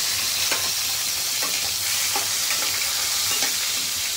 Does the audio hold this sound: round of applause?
no